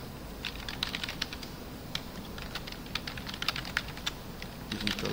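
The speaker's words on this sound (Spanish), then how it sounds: "Digito la contraseña" Someone types a password on a computer keyboard with quick, light, irregular key clicks, close and fairly soft, against a faint background hum.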